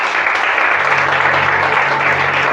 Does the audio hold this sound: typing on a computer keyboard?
no